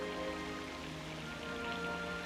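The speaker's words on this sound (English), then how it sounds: "I think we should get out of the rain." Steady rain pours over a dramatic night scene in the 1992 film Memoirs of an Invisible Man, a dense continuous hiss under a low musical score, with no voices.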